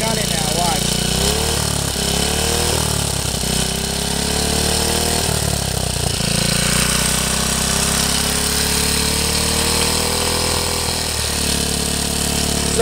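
A vehicle with a worn, failing centrifugal clutch revs steadily, a loud continuous droning engine note that rises slowly in pitch with a few brief dips, heard close throughout.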